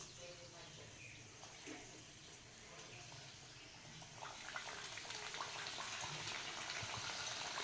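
Jowar puris frying in hot oil in an iron kadai give a soft, steady sizzle and bubbling that grows a little denser partway through, faint and close, with occasional low talk underneath.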